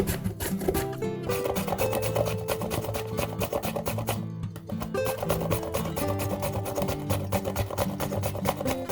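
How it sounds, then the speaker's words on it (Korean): Peeled old pumpkin being grated on a grater, a steady rapid rasping scrape with a quick rhythm of strokes and a brief pause partway through, close and fairly loud, without any speech. "다듬은 호박은 강판에 갈아줍니다."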